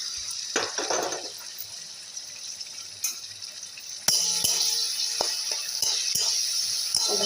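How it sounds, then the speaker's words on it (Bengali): Prawns frying in hot oil in a wok: a faint clatter comes first, then a steady sizzling hiss takes over partway through and holds to the end, close and fairly quiet. "এবার চিংড়ি মাছটা ভেজে নেব।"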